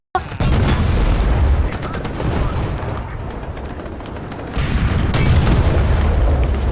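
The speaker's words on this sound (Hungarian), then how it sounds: "Bomba." A heavy bomb explosion in the tank game War Thunder, a loud sudden boom followed by sustained roaring rumble and a second surge of blast noise.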